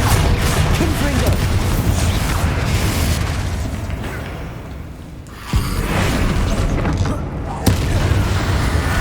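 A Confringo blasting spell goes off in Hogwarts Legacy, with a dense rumbling roar of spell fire and booms, two sharp blast hits standing out near the middle and end, all under a voice.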